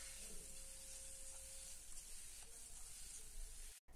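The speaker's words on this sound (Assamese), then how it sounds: "লগতে জোখমতে নিমখ আৰু হালধি দি বিলাহীখিনি গলালৈকে ভাজি ল'ম।" Tomatoes fry in a pan with salt and turmeric for an Assamese fish curry, giving a faint, continuous sizzling hiss that cuts out briefly near the end.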